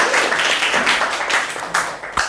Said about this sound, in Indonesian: Tepuk tangan buat Mas Ilham.